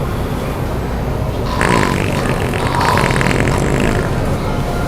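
A novelty fart-sound speaker hidden in a pocket during a public prank lets out a loud, sustained, raspy blast that rises over quiet background noise and lasts a few seconds.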